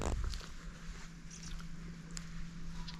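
Rustling and scratching in dry undergrowth as a goanna moves nearby, with soft crunchy shuffles over a steady low hum.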